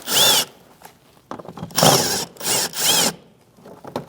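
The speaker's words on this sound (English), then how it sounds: "And then we'll grab the 7mm socket. And we'll work on the screws that we can see here." A power tool spins out screws with a 7mm socket on a 2016-2025 Chevrolet Malibu 1.5L, holding an ABS bracket to the fender liner. Three close, loud whirring bursts come in quick succession, with clicks and handling noise between them.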